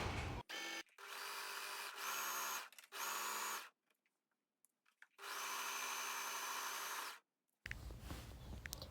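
Sewing machine and overlocker stitching the shoulder seams of a medical gown, several bursts of steady motor whir of varying length with short pauses and quiet handling between, close and clear, no speech.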